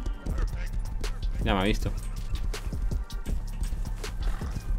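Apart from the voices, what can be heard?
horse galloping in Rust video game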